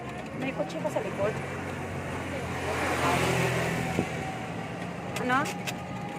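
A motorcycle passes from behind on a street, its engine rising to a brief nearby whine and fading under a child's and adult's talk, with a second engine whine toward the end.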